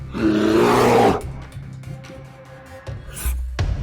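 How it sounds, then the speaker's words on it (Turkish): A loud, deep bear roar bursts out for about a second, followed by lower grunting rumbles and a few sharp knocks trailing off. "Kükreyen bir ayı gibi olabilir mi dersiniz?"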